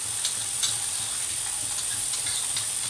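Cumin seeds and mustard seeds crackle in a teaspoon of hot oil while a beetroot curd pachadi is prepared, a steady faint sizzle with soft scattered pops.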